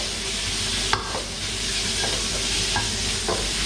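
Beef stir-fried in a pan with red curry paste, shrimp paste and dried chili, dry-roasting with a steady close sizzle, marked by a few sharp scrapes and taps of the spatula.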